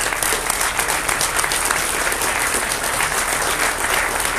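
A large outdoor audience at a July 2017 gathering at Notre-Dame-des-Landes applauds the invited speakers with dense, steady clapping that fills the whole stretch at an even, loud level.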